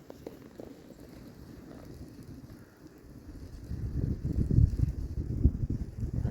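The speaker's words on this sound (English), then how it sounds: "Don't help all this wind." Wind gusting across open water while bass fishing from a boat, a soft buffeting rush that swells and grows louder and rougher on the microphone toward the end.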